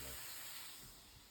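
Ground beef sizzles in a frying pan with a steady, bright hiss that fades slightly over a short stretch, alone and at close range.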